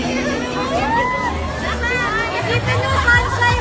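Dense crowd chatter and shouting fills a busy mall event for a movie tour, a loud, continuous hubbub of many overlapping voices with occasional cheers rising above it.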